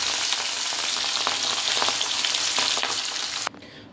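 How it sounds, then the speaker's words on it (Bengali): Pieces of katla fish frying in hot oil, a dense, close crackling sizzle that carries on steadily before cutting off abruptly near the end, with no talking. "এবার হালকা করে মাছগুলো একটু ভেজে নেব।"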